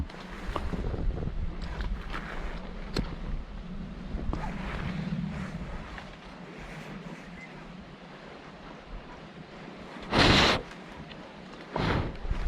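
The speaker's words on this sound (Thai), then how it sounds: "เพราะลมแรง" Strong wind blows outdoors in gusty, roaring waves close to the microphone, with buffeting thumps and a louder blast near the end.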